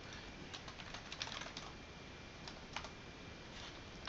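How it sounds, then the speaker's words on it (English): Faint, irregular clicking of keys on a computer keyboard, typed in short clusters over a quiet steady hiss. "So when I typed show tables"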